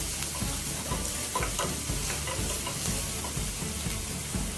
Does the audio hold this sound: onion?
yes